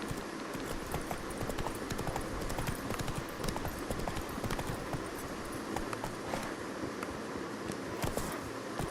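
Roach, a horse in Witcher 3, clip-clops along at a steady walk, with hoofbeats evenly spaced and close, over a soft ambient background and no talking.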